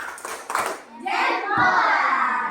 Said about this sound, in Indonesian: Coba berikan tepuk jempol.